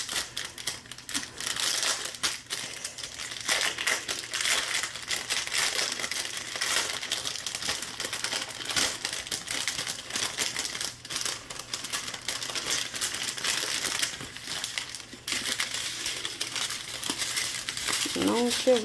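Crinkly plastic bag of rhinestones rustles and crackles continuously as it is worked open, close and fairly loud, with brief faint voice at moments.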